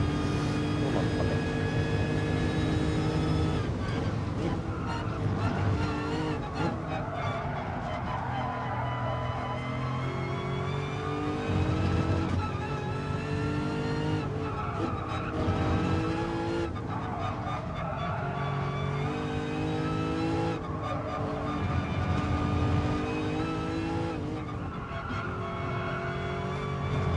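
A Lexus RC-F GT3 race car in Gran Turismo Sport, run on hard tyres with traction control off, roars continuously as its engine climbs and drops through repeated gear shifts, with tire squeal and braking dips, loud and close throughout.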